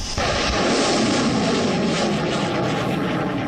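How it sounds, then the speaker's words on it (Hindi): Roar of a Sukhoi Su-30MKI fighter jet engine, a loud, steady broadband rumble and hiss that holds unbroken from start to finish with no voices over it. "Sukhoi 30 MKI"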